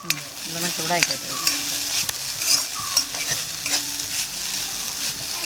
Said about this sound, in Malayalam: നമ്മൾ അരപ്പ് ഇതിലിടുകയാണ് കറിവേപ്പില ഇതൊക്കെ ഇട്ടിട്ടുള്ള ആ നല്ലോണം ഒന്ന് മിക്സ് ചെയ്യണം